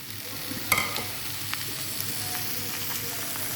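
Onion frying in a pan, a soft continuous sizzle with a few sharp crackles and a stirring clatter near the start, fairly quiet and close, with no talking.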